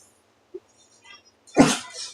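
A single loud, close sneeze bursts out after a brief quiet moment, preceded by a tiny click and faint background noise.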